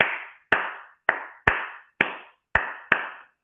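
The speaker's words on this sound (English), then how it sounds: "they would clap this clave pattern oftentimes" Hands clap out a West African clave pattern: seven sharp, close claps in an uneven, syncopated rhythm, each ringing briefly with no voices over them.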